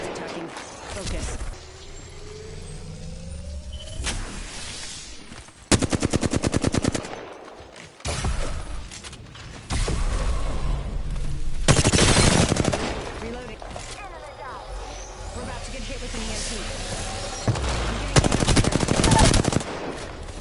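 Gunfire in the Apex Legends battle royale on the World's Edge map comes in loud, rapid automatic bursts separated by short lulls, mixed with game sound effects and talking.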